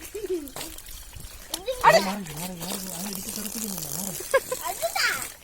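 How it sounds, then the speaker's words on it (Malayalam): Water poured over a baby's head during a bath at home, trickling and splashing softly beneath steady adult talk and a voice, with a brief louder splash partway through. "അവന്റെ തലേ വെള്ളം ഒഴിയമ്മേ. അത് ഒഴിക്കാം."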